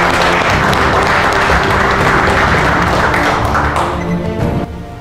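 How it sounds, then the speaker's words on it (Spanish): Dense, loud applause from an audience at an agricultural association event in Culiacán, steady sustained clapping that thins slightly toward the end. "De veras, un aplauso para todos ustedes."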